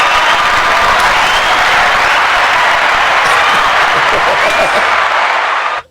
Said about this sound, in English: I'm giving you a round of applause for even putting me up like that